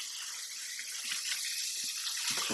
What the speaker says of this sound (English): Just kind of rinse those off real quick.